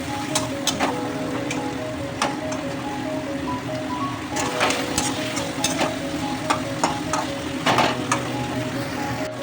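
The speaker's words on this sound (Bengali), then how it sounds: "এবার আস্তে আস্তে কষাতে থাকবে" Fish curry with potatoes and tomatoes sautéing in oil, a steady close sizzle with repeated scraping stir strokes of a spatula against the pan, occasional louder clinks, no talking.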